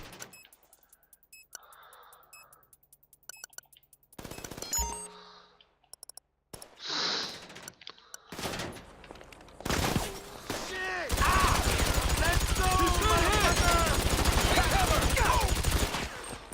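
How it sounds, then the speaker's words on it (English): Video game gunfire in GTA 5 Online, with bursts of rapid automatic shots and scattered single cracks mixed with clicks and game effects, building into a dense, loud barrage over the last few seconds. "I can hear gunfire, which isn't a great thing."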